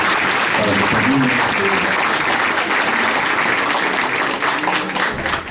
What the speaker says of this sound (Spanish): denle un fuerte aplauso al doctor Rodrigo Moreno Trujillo, por favor